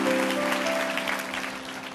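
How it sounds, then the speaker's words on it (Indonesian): A church congregation at a sermon claps together in a steady wash of applause to welcome members home, with a sustained musical tone underneath that fades slightly toward the end. "Kasih tepuk tangan untuk mereka semua, welcome home."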